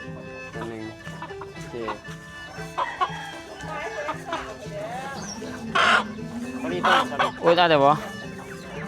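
Chickens cluck repeatedly and close by on a Thai farm holding more than a hundred birds, with choppy clucks and calls growing louder toward the end while people talk.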